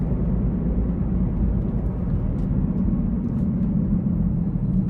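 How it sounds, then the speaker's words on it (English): 2017 BMW X5 xDrive35i with an 8-speed automatic accelerating hard in sport mode onto an interstate, heard from inside the cabin as a steady, strong engine and road rumble with no talk. "I'm gonna put my foot into it and just see how it gets up to speed as we get on the interstate here."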